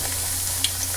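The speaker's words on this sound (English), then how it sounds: "we've got all 6 of our potato pancakes fried up" Potato pancakes fry in a pan with a continuous, dense hiss of bubbling oil and a couple of tiny crackles, close and steady, no voices.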